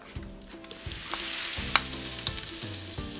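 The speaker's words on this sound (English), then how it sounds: "so we can saute our garlic and" Garlic and ginger fry in two tablespoons of hot oil for a shrimp and string bean stir fry, a soft continuous sizzle with a few stirring ticks over a faint steady tonal background.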